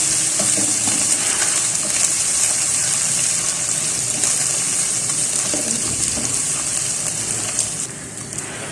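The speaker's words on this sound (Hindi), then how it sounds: "1 मिनट फ्राई करने के बाद अदरक लहसुन का पेस्ट ऐड करें।" Whole cumin seeds and ginger garlic paste fry in hot oil in a pan, giving a loud, steady, dense sizzle that continues without a break.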